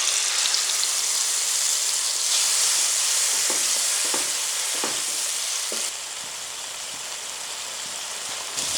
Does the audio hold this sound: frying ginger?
yes